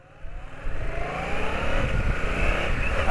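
A Yamaha MT-07 motorcycle pulls hard on a road in Japan, the engine note climbing from quiet to a loud, rising rev over about three seconds, with wind rush on board.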